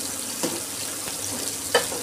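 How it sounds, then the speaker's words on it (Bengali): Pumpkin greens and potato being stirred in a pan, a steady frying hiss with a few soft scraping strokes of the spatula, near and alone. "ভালো করে নেড়ে চেড়ে শাকটাকে ছাড়িয়ে দিচ্ছি।"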